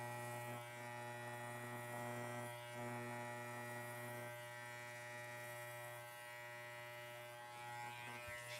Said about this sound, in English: Again, just kind of trimming down the fibers